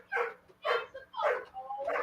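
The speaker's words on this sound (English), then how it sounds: "is it a dog barking?" A dog barks and yips in a quick series of four or five short bursts, faint and distant with a steady low hum underneath.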